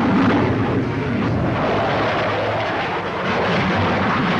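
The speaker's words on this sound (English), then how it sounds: "the Lockheed Starfighter goes through its paces" A Lockheed Starfighter jet fighter from the late 1950s roars past in a continuous, loud, broadband engine rush that holds steady with slight swells.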